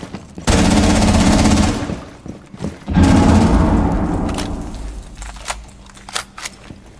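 Automatic gunfire shooting through a wall in the video game Rainbow Six Siege, two loud sustained bursts of rapid shots close together, followed by a few scattered single impacts and clicks.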